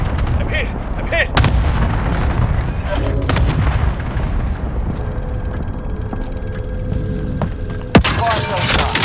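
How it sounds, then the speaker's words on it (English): Cluster strike explosions in the Warzone video game on Rebirth Island, a dense run of booming blasts and gunfire-like impacts layered together, loud and continuous, with a sharp louder crack near the end. "Allied cluster strike inbound."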